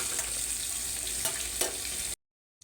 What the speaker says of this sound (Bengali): এদিকে যে বেগুন ভাজাটা দিয়ে দিচ্ছি